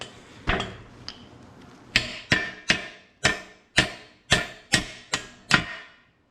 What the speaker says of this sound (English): Hammer that in there,